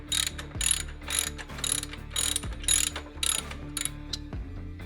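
A hand ratchet clicks in quick repeated bursts while backing a bolt out of a black two-step crash bar with highway pegs on a 2018-or-later Harley-Davidson Softail, each run of sharp metallic ticks close and crisp, separated by short pauses.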